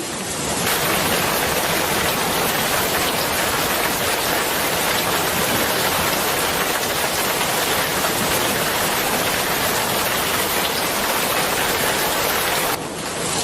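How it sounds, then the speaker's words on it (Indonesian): Steady rainfall, a dense continuous hiss of drops pouring down at close range, loud and unbroken for over twelve seconds with no voices. "Dengarkan, suara air hujan."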